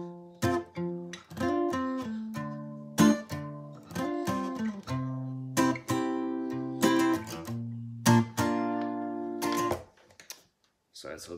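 Guitar plays the verse of a song, strummed chords in a steady rhythm with short accented hits, close and clear, fading out at the end.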